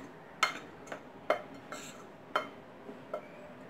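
Spoon stirring sugar, yeast and salt together in a bowl for pocket bread dough, a series of sharp clinks and scrapes against the bowl spaced irregularly, quiet and close with no talk.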